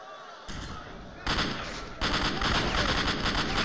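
Heavy shotgun blasts of armour-piercing slugs in the game Stalker: Shadow of Chernobyl boom out one after another, loud and close, each adding a sudden burst of dense noise over a constant roar.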